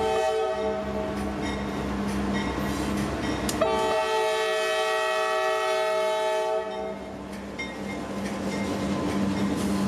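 A freight train hauling wet rock phosphate loads through Florida's Bone Valley rumbles past steadily, its horn sounding loud and sustained for several seconds mid-pass over the continuous rolling noise of the cars.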